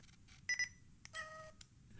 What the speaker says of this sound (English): Listen to the shutter sound.